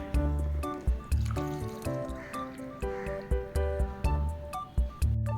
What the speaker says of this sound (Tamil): டீ ஊற்றிடலாமா?